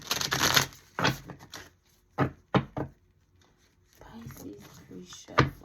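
Tarot cards shuffled by hand in several quick riffling bursts, close and fairly loud, separated by short pauses.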